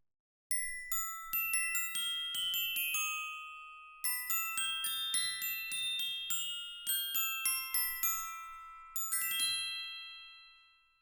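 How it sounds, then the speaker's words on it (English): Orchestral bells played in quick runs and clusters of bright metallic notes, each ringing on, with two short pauses between phrases. "Glockenspiel, or orchestral bells."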